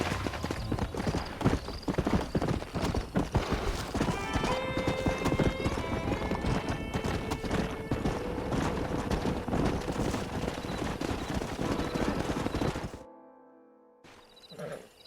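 Horses gallop in the Western game Red Dead Redemption, a loud, steady rush of hoofbeats with an occasional whinny, running continuously before cutting out abruptly near the end.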